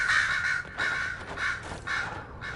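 Repeated crow caws from the Dragon Age Inquisition video game, four loud harsh bursts in an irregular rhythm, heard close and alone with no talk over them.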